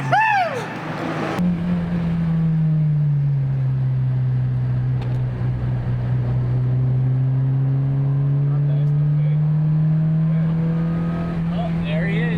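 A Honda S2000 screams past at a touge mountain-road event, its high engine note sweeping down in pitch and then holding a loud sustained drone as it drops a gear, with spectators talking briefly at the start.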